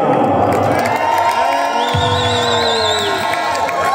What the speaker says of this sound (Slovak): A na záver privítame veľkým potleskom aj Captain Jacka!